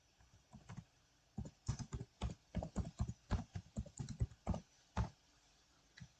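Someone types a message on a computer keyboard, a quiet, close series of irregular key taps in quick bursts with short pauses and no talking.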